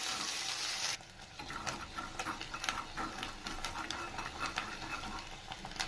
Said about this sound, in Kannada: ಇದನ್ನು ಎಣ್ಣೆಯಲ್ಲಿ ಚೆನ್ನಾಗಿ ಫ್ರೈ ಮಾಡ್ಕೋಬೇಕು